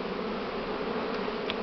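Honeybees buzz around a hive on a warm spring day, with peach and apricot trees in bloom, making a dense continuous drone that is close and steady and has no voices.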